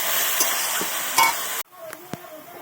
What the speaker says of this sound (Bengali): ভালো করে আমি মশলাটা দিয়ে ভালো করে কষিয়ে নেব।